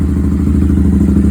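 A Royal Enfield Interceptor 650 parallel twin fitted with a new exhaust idles close by, a loud, steady throaty burble with an even pulsing beat throughout.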